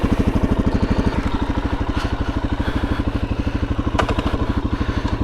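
A stock Suzuki DRZ-400S single-cylinder dual-sport motorcycle idling close by, a steady rapid thumping pulse with mechanical clatter and a couple of brief clicks.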